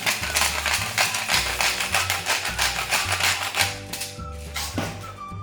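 A pepper mill is twisted in quick, repeated turns to grind pepper over a chicken, giving close, rhythmic, gritty crunching and ratcheting bursts. The grinding runs on throughout, with short pauses between turns.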